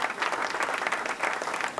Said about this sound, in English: Another hand clap for, another hand clap for Kid Jersey.